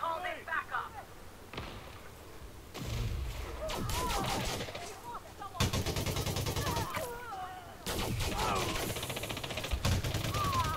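Rapid automatic gunfire bursts in a conflict zone battle in the video game Elite Dangerous Odyssey, loud sustained volleys broken by short pauses, with voices talking over the shooting.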